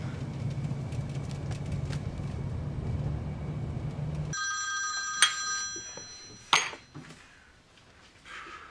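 Telephone ringing tone heard while a call is placed: steady background noise gives way to a faint electronic ring with a couple of sharp clinks, quiet and close, with no talking.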